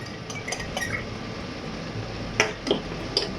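Spoon clinking and scraping in a bowl of soy sauce and cornstarch, a few light taps over steady kitchen background noise.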